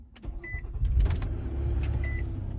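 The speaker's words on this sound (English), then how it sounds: "The car is on." A Nissan Murano with a blown head gasket starts up nearby, giving a brief whirring crank before settling into a steady low engine idle with a few light clicks. There is no talking.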